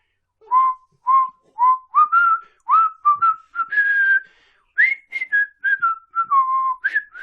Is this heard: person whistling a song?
yes